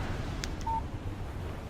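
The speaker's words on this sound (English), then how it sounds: "Text message from Barry." A phone in Alan Wake gives a short electronic text alert, a single brief beep standing out against quiet room tone.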